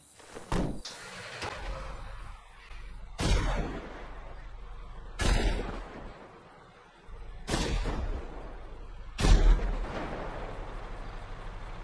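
Khanjali tank firing its standard cannon in GTA Online: five heavy, booming shots spaced roughly two seconds apart, each with a sharp crack and a rumbling tail.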